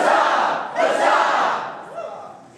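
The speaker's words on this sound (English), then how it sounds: "That deserves a cheer right there" A large crowd at a leadership kickoff event roars and whoops loudly, a sustained burst of cheering that swells again before trailing off.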